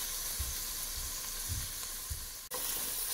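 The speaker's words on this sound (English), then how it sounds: "Now the water evaporated and it starts frying all over again." Onion, garlic and grated ginger fry in a pan with a steady, moderate sizzle and hiss, broken by a few soft stirring scrapes and one brief dropout near the end.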